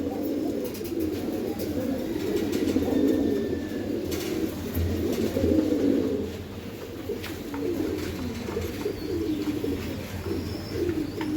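Pigeons at a pigeon farm coo in soft, repeated low rolling calls close by, continuous throughout, with faint background hiss and occasional clicks.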